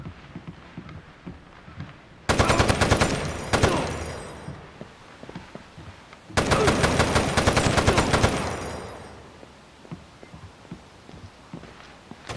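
Machine gun fire in the video game Rainbow Six 3 on PS2, two long, loud automatic bursts of rapid shots separated by a quiet pause, with softer footsteps and clicks between.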